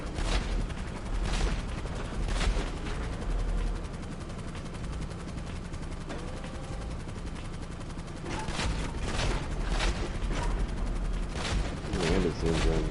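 Repeated heavy blasts from a missile launcher vehicle firing in GTA 5, coming as loud bursts in clusters over a steady rumbling bed, with a voice talking throughout.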